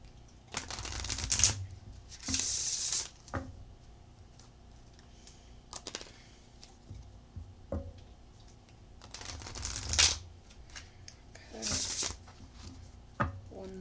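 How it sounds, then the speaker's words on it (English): Oracle cards are shuffled close up in several bursts of rapid riffling and flicking, separated by quieter pauses with faint soft taps. "Shuffle and we'll get right into it."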